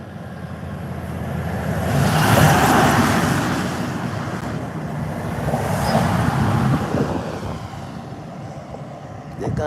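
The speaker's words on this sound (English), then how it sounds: "There's 2 big trucks coming." Two big trucks pass on a road during a walk in Japan, a loud broadband roadway rush that swells, eases and swells again, with a voice talking over it.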